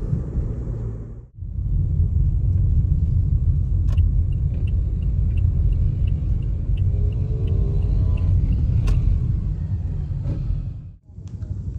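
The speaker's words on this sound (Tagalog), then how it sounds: "Traffic dito sa Butuan guys," Steady low rumble of busy city traffic on a main road in Butuan, heard continuously and fairly loud from inside a vehicle, with faint engine hum and no talking.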